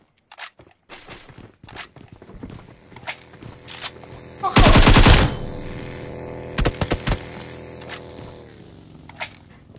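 Gunfire in the mobile battle royale game PUBG Mobile: sharp scattered shots and a dense loud burst mid-way, with footsteps and crunching movement between, fairly close.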